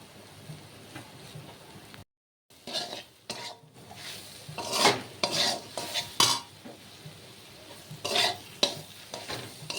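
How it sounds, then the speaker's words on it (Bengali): Spices with salt and turmeric being stir-fried for potato curry (aloo bhuna): repeated scraping and clinking spatula strokes against the pan over a soft sizzle, irregular and close, after a brief silent gap near the start. "মশলাটা ভালো করে কষুক।"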